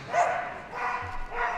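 A border collie barks a few times during a Crufts agility team semi-final run, the yaps spread across a brief moment amid arena ambience.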